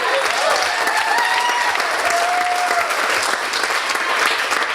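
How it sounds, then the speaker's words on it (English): Wedding reception guests break into a full round of applause for the bride, loud and sustained clapping from a crowd indoors, with faint cheers and voices mixed in. "Let's give her a round of applause."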